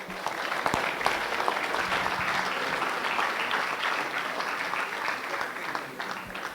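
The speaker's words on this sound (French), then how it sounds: "Merci, on peut l'applaudir." A hall audience at a regional Christmas carol award ceremony gives sustained applause to a lyric singer, dense even clapping that holds for several seconds without speech.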